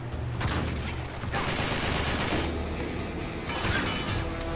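Video game gunfire from Uncharted 3 comes in rapid, loud bursts of automatic fire, three dense volleys separated by short gaps, with booming low impacts underneath.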